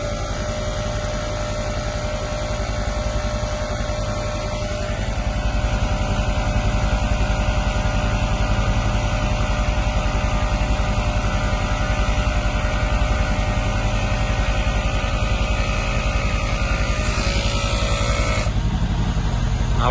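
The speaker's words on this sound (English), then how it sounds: "As you can hear, the pump is running and the vehicle is rising." The air suspension pump on a Mercedes W212 E63 AMG runs continuously as the car rises, a steady electric whine and hum with an even mechanical drone, close and moderately loud, with a brief shift in tone near the end and no talk.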